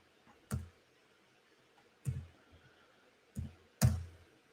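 Several separate keystrokes click on a computer keyboard, four distinct close taps spaced irregularly over quiet background.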